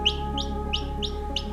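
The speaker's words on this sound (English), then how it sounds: "That's a chicken!" A newly hatched chick chirps in a steady series of five sharp, high peeps about a third of a second apart, close and clear over a constant low background hum.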